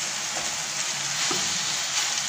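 Escalope and onion sizzling in a frying pan for pizza topping, a steady loud crackle with faint scraping of stirring underneath.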